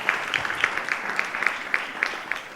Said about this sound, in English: Please, can you give a round of applause for board members of JA Africa?